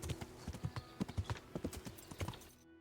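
Hooves of a galloping horse in the video game Kingdom Come Deliverance, a fast, close, rhythmic clip-clop of heavy strikes repeating steadily before cutting off abruptly.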